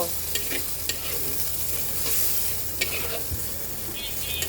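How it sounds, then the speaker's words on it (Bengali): Frozen chopped onion frying in hot oil with two bay leaves for a prawn dopiaza, a steady loud sizzle with the occasional scrape of stirring throughout, no talking. "ফ্রোজেন করা পেঁয়াজ কুচি তোমরা ইনস্ট্যান্ট কেটে নিও পেঁয়াজটাকে খুব সুন্দর করে একটু ভেজে নেব"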